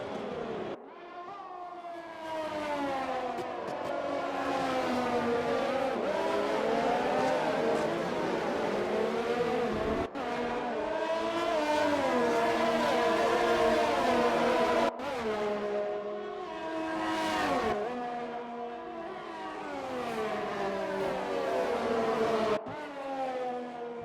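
Several race cars in a sim racing game battle on track, layered engine whines rising and falling through gear shifts, close and continuous, with abrupt cuts between views.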